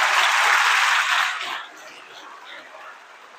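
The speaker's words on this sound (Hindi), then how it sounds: "अब हनुमान जी के नाम पे एक जोरदार ताली बजाओ" A lecture audience breaks into loud applause for Hanuman, a thick wash of clapping that holds for about a second and a half, then thins and fades into scattered claps.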